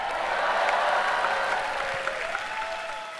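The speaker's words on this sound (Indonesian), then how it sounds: "sekali lagi berikan tepuk tangan luar biasa" Sustained applause from an audience after a stand-up comedy set by Bintang Emon, a dense, even clapping wash from a crowd that gradually thins toward the end.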